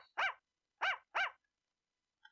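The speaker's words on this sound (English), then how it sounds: "There's a dog." A dog in the Ace Attorney Spirit of Justice video game gives three clear, loud barks, one alone and then a quick pair, with silence around them.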